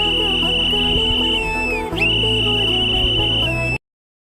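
A loud, shrill whistle blows in one steady long tone at a political rally, briefly wavering midway, over a low rumble of crowd noise before ending sharply.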